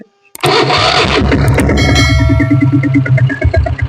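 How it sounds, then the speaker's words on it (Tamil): A diesel Bullet motorcycle engine cranks and catches after a brief pause, settling into a loud, close, chugging idle. "இப்போ நான் வண்டி ஸ்டார்ட் பண்ணி கேட்ட பாருங்க."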